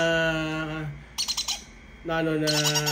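Three-week-old hand-fed green-cheeked conure chicks squawk loudly and harshly up close, two long rasping calls separated by a brief pause with softer chirps.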